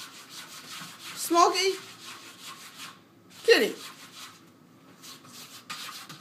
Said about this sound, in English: Scratch the door like that.